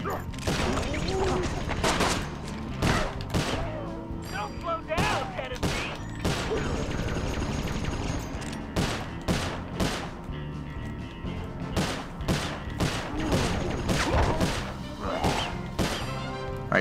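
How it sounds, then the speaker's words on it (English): Repeated loud gunshots and crashing impacts in the platform stealth game Sly Cooper: Thieves in Time, sharp separate bangs spread across a busy game soundtrack with occasional voice. "Looks like you're gonna have to shoot your way out, Tennessee."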